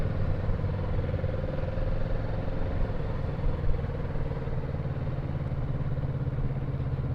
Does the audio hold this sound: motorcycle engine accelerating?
yes